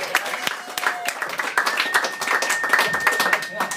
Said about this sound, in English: Ladies and gentlemen, clap it up for Seth Caulfield.